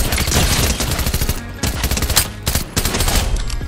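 Rapid automatic gunfire from a Fortnite weapon rattles in loud, close bursts, with brief pauses between volleys and no talk.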